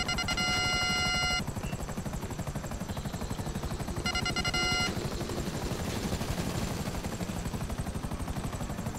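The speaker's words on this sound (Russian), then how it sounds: "а вон вертолет вижу" A helicopter in Grand Theft Auto V gives a steady, close rotor chop throughout, with two short bursts of high tonal game sounds over it.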